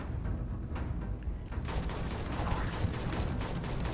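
Gun turrets firing in a video game, a rapid continuous rattle of automatic fire that grows denser and steadier after the first second, fairly faint and mid-distance.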